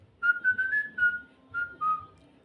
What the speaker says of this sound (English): She was whistling happily to herself